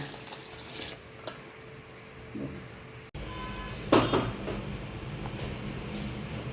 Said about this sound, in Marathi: आता काही नाही आपण गरम केले पाणी आणि ओतायचं